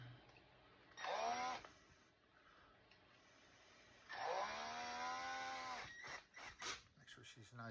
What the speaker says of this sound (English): Just put it in my drill gun.